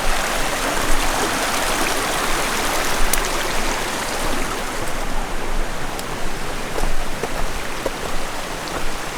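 Steady rushing water with a dense, even splashing texture, a mountain stream flowing over rocks close by on the Appalachian Trail near Bear Mountain, continuous throughout with no voices.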